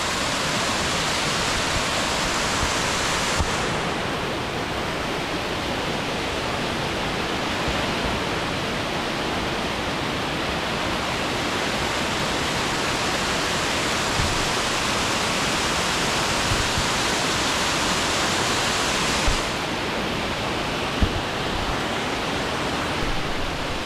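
A natural waterfall near Pyin Oo Lwin, Myanmar, gives a loud, unbroken roar of rushing water that stays steady throughout, with no voices.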